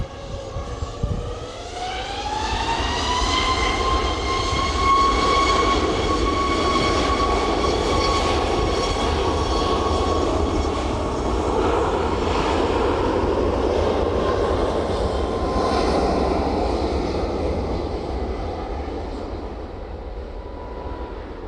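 A Ryanair passenger jet takes off down runway 09 at East Midlands Airport on a blustery evening, a sustained loud engine roar with rising whine tones that holds steady, then slowly fades.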